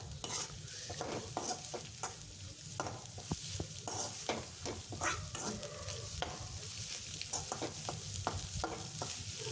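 Egg for egg fried rice is stir-fried in a pan, with a low steady sizzle broken by repeated scraping strokes of a spatula, heard alone with no talking.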